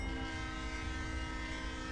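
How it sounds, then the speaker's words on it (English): A Santa Fe C40-8W diesel locomotive in Train Sim World 6 sounds a steady, loud multi-tone air horn chord, sustained for about two seconds over a low engine rumble. "So I'll do a toot of the horn."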